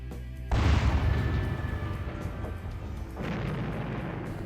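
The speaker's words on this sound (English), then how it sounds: "Right, now we've got the artillery." Artillery fire sound effect: a heavy, booming shot bursts in at half a second and rumbles away, followed by a second, slightly softer boom near three seconds that trails off; no talking.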